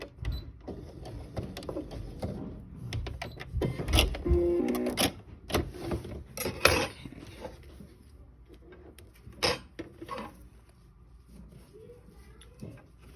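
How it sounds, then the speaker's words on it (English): A sewing machine runs a lock stitch along a gallon edge, a close mechanical whirring and rapid needle clatter that surges in steady runs and then trails off into quieter handling noise. "I did not lock stitch at my beginning, so I'll go over just a little bit, and then I'll go ahead and do a lock stitch"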